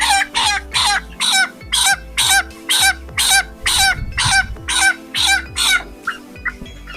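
A medium-sized broiler chicken on a scale gives a long run of loud, close, rhythmic clucks in regular bursts, about a dozen in quick succession, alone without talk.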